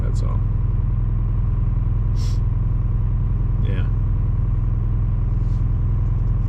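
A Detroit 4-53T turbo diesel swapped into a Ford Super Duty truck idles with a steady, heavy low rumble up close, while someone speaks over it.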